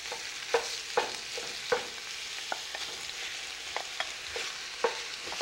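Chopped pork sizzles in a pan as a spoon stirs and breaks it apart into a granular meat sauce, with soft steady frying beneath sharp scraping clicks every second or so, fairly quiet and with no voices.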